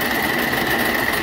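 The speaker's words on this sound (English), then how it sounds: "engage the clutch mechanism, and the braider will start functioning" A New England Butt harness braider runs after its clutch is engaged, giving a steady, loud mechanical whir and rattle close by, with no speech.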